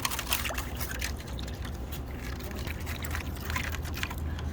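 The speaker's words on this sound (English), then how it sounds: "Let me stir up the sugar." Sugar stirred into a tangy marinade for a whole hog at a cinder block brick pit, a steady close scraping and liquid swishing that runs throughout, no talk over it.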